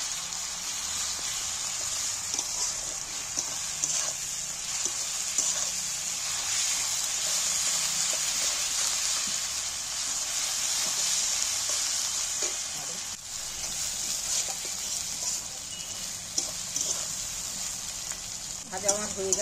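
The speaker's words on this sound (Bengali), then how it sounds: "রসুনটা পেঁয়াজের সঙ্গে দিয়ে দিচ্ছি প্রথমে।" Garlic paste frying with onions in hot oil makes a loud, continuous sizzle with constant stirring and scraping in the pan, keeping a dense hiss for about twenty seconds.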